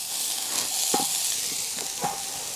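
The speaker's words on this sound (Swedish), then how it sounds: "Då drar vi på köttbullarna och värmer på dem." Swedish meatballs being reheated and fried in a pan give a soft, steady sizzle with a few brief stirring scrapes, quiet and close, with no talking.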